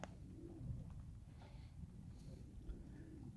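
Pigeons coo softly with their young in a quiet, low-level setting, a steady faint murmur with no talking.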